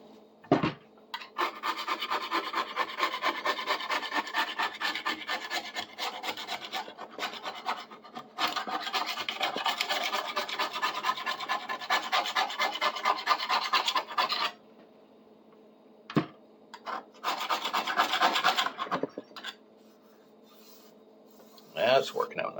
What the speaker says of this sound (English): a sharper edge on the knife means taking off a lot more rust